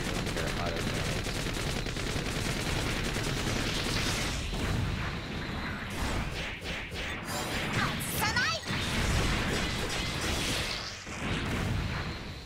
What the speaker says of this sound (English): And I can just shoot. Also 110 millimeter auto cannons.